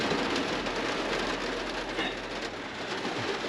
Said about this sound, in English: You can probably hear it absolutely chucking it down out there.